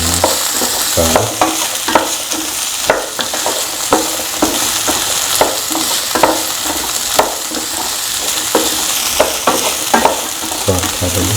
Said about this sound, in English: Then saute with the beans become yellow and brown.